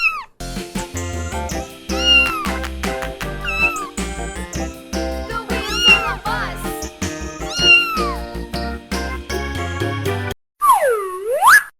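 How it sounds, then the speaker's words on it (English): Cat meows heard over a busy, loud musical backing, with several short rising-falling cries scattered through the clip and a longer, clearer meow near the end. "Cat."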